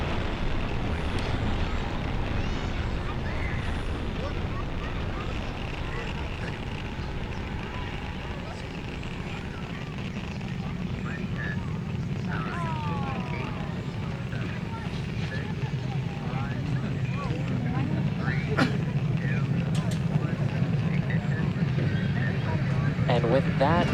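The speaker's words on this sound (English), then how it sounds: "successful liftoff of our Starlink satellites on our Falcon 9 vehicle" A SpaceX Falcon 9 rocket lifting off with Starlink satellites gives a steady, broad, distant roar that holds for the whole stretch and swells slightly toward the end, with launch-control voices talking over it.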